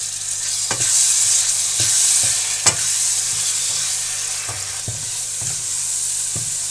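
Whole coriander and masala fry gently in a pan for an aloo gobi sabzi, a constant bright sizzle punctuated by repeated rhythmic scrapes and taps of a spoon stirring, no voices.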